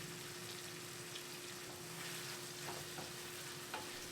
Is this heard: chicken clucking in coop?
no